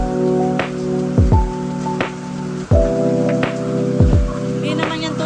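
Rainwater dripping through a roof full of holes, each drop landing as a sharp plink into water or a container at irregular intervals, close and clear over a steady low hum.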